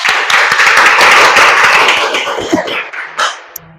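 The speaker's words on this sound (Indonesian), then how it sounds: "kasih tepuk tangan untuk kelompok 2" Students in a classroom clap for a group that has just presented, a close, loud burst of hand clapping that thins into a few scattered claps and knocks toward the end.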